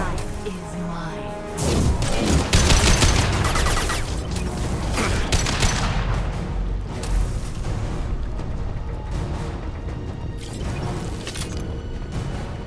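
Dense bursts of gunfire from a shooter battle in Mass Effect 2 Legendary Edition, loud and sustained, with clustered shots and impacts layered under a speaking voice.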